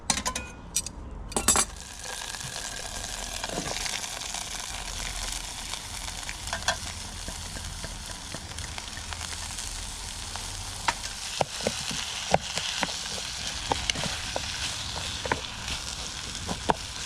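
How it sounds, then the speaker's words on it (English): Onions fry in leftover steak fat in a pan on a Trangia camping stove, sizzling steadily with frequent utensil clinks and scrapes, preceded by a brief clatter at the start. "I'm going to use all the fat out of this pan to fry the onions."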